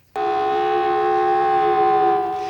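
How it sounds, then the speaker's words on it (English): An air raid siren in Kuwait City starts abruptly and holds a steady, loud, piercing tone for a couple of seconds, sounding alone with no voices. "In Kuwait City, sirens wailed"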